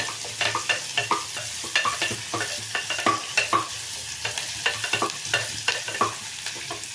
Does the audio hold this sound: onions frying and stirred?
yes